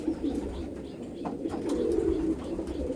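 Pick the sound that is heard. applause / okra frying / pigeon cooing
pigeon cooing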